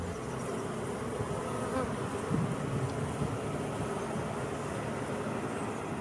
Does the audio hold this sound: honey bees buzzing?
yes